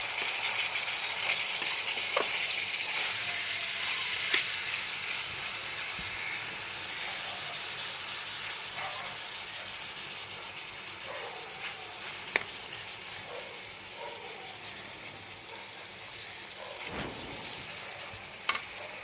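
Chopped capsicum, green chillies and other vegetables for veg chowmein stir-fry in a pan with a long, steady sizzle, broken by occasional sharp scrapes and clacks as they are tossed and mixed.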